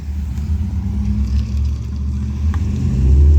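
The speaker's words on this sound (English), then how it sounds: "there's a lot of cars passing by today" Cars roll past on a street beside a front rose garden, a steady low rumble of traffic that swells louder toward the end, with no talking over it.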